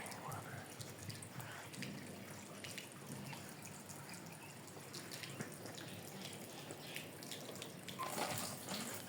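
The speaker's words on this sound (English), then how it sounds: "This is the spring water." Spring water at the Khoja Doniyor tomb in Samarkand runs and drips in a steady, quiet wash of trickling sound that stays fairly even throughout, with a brief louder splash near the end.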